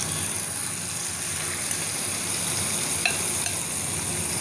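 Marinated chicken frying in ghee in a pan, a steady close sizzle with light stirring scrapes running throughout, no talk over it.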